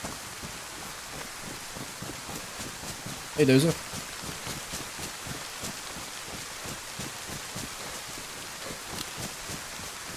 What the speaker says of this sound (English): the rain is so much more bearable